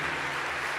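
Brief, dense clapping from a church congregation fills a large room, loud and continuous, with nothing else standing out.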